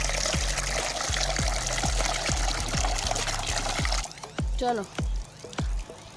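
Water is poured into a hand-kneaded mixture. A steady splashing pour fills the first four seconds, then it breaks into short intermittent gushes, and a voice is briefly heard.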